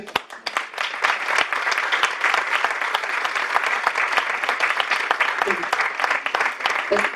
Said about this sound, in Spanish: se oyen los aplausos muy lejos